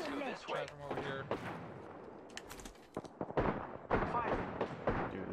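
Gunfire in Apex Legends crackles in scattered bursts and sharp shots, some near and punchy, alongside talking voices.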